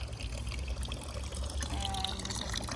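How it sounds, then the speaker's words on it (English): A homemade solar-powered fountain in a garden trickles and splashes without pause, a steady close wash of running water with no clear speech. "this is of course our water fountain"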